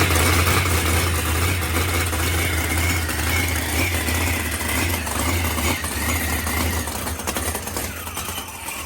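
Boosted car engine, nearly out of fuel, sputtering and rumbling as it tries to run with a little throttle, a steady loud low drone with rough irregular pulses throughout and no talk.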